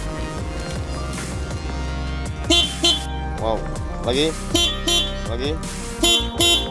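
The horn of a Honda Vario motorcycle, newly wired through a relay, is tested with several short honks in bursts, heard close over a steady background hum while someone speaks briefly.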